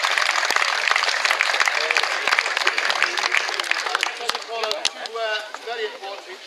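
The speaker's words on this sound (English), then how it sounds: "Can we have a round of applause for the boys first?" Crowd applause at a charity rugby match, a dense, loud wash of many hands clapping that carries on throughout, with crowd voices mixed in.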